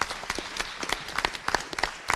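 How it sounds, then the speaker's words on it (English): Scattered clapping from a small group at a school board meeting, short sharp individual claps at an uneven rhythm, fairly faint and close, with no voices over it. "So a round of applause for Julie Harrington."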